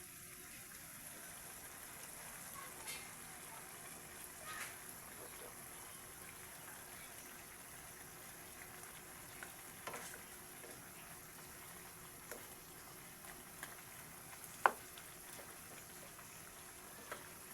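Chicken adobo simmers in a pot with a faint, steady low bubbling and a few soft pops and ticks scattered across a quiet kitchen background.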